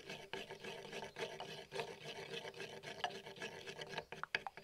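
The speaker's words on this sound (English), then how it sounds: "Then we beat 1 egg." An egg is beaten for a medieval onion soup with pork knuckle, heard as close, steady scraping and rubbing strokes of a utensil in a bowl with no talk.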